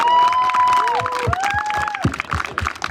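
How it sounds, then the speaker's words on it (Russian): Crowd of spectators at a marathon in Vorkuta clapping and cheering the runners, a dense steady roar of claps and shouts with tonal whistles or horns sliding above. "Давайте похлопаем"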